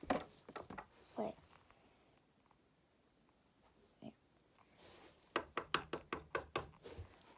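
A door is knocked on in a rapid series of sharp, close raps near the end, after faint voices and scattered soft thuds during play with a Baby Alive doll.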